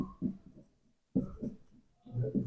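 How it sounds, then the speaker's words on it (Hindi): Chalk or marker writing on a board during a chemistry lesson, soft scratchy strokes in short bursts separated by a brief pause, close and faint. "इधर लिखता हूं मैं इसको"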